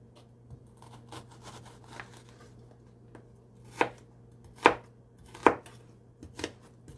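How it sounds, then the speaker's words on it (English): A knife chops onions on a cutting board for a salad, first with soft, scattered taps and then with several sharper, louder chops near the end, close by with no talking. "Okay, I'll do the rest of the onions."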